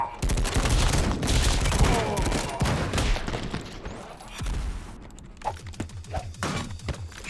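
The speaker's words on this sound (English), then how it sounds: "Pistol, machine gun, there we go." Pistol and machine gun fire in the action game Madness: Project Nexus, with rapid, dense bursts of shots and impacts up front that thin to scattered single shots, and a voice talking over them.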